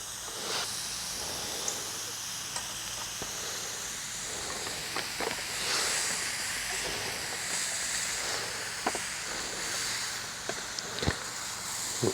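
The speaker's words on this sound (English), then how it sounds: "That's one of the nice things about the MSR Pocket Rocket is the fact that you can adjust the flame as opposed to my Coleman stove." Steady broadband hiss from an MSR Pocket Rocket camping stove burning outdoors, a continuous faint roar with scattered small clicks and ticks over it, no voices present.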